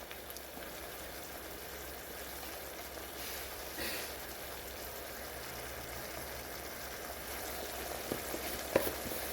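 Shrimp and mushrooms sizzle in a covered pan, a steady soft crackle and hiss of frying that continues throughout, with a few faint clinks near the end.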